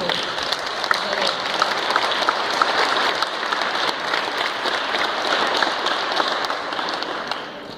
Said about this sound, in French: J'aimerais un applaudissement également à Tanisha Mapp, la jeune artiste qui a fait cette